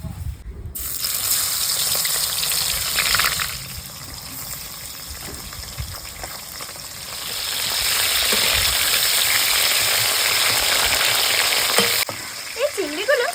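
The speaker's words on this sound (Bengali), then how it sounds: "চলো তাহলে মাছগুলো ভেজে নিই হ্যাঁ তুমি মাছগুলো ভেজে নাও" Golda prawns frying in hot oil, a continuous loud sizzle and crackle that swells and fades over several seconds, with a brief break near the end and faint background sounds.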